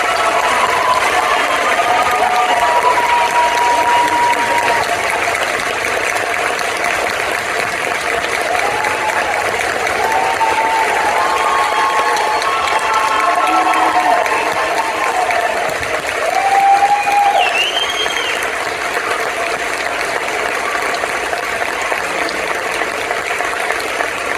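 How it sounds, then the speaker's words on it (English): A long, sustained round of audience applause at a community music-education tribute, dense and even from start to finish with no clear gaps. "So if you could help me give her one more round of applause."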